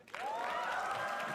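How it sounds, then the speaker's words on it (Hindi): A roast-show audience gives a short, steady round of applause and cheering, with a whooping shout rising above the crowd noise. "तालियां हो जाए एक बार"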